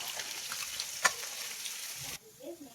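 Net-caught fish fries in a pan with a steady, close hissing sizzle and one sharp pop midway; the sizzle cuts off abruptly near the end, leaving a few faint low sounds.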